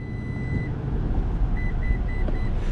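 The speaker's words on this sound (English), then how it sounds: "That second set of beeps meant that I just set the height of this door to right here" A Toyota 4Runner power rear door gives a single beep, then after a pause a quick set of four short, evenly spaced electronic beeps over a low, steady background hum.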